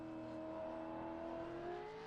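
Race car in a sim racing video game at Bathurst, engine revving up steadily on the throttle with a rising, droning tone, moderately loud and without talk.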